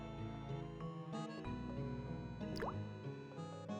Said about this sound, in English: it's just a loud dripping sound